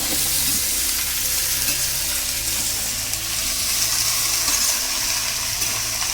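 Dried Bombay duck fish sizzles steadily in hot oil, a constant loud crackling hiss with no voices.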